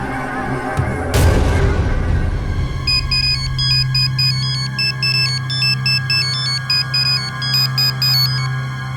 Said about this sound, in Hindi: रिंग पे रिंग जा रही है।